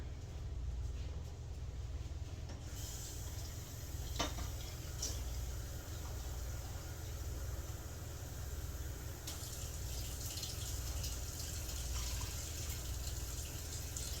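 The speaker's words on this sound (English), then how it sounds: "I'm going to add 1 full bowl of water" Water from a full bowl gushes steadily into a rice cooker holding three cups of pre-rinsed brown rice, a continuous close pour and splash lasting about fourteen seconds with no talking.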